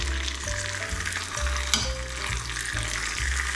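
Bacon, streaky or back, sizzles steadily in a frying pan, a loud continuous crackle with periodic low thumps and scraping as it is moved, with no voices.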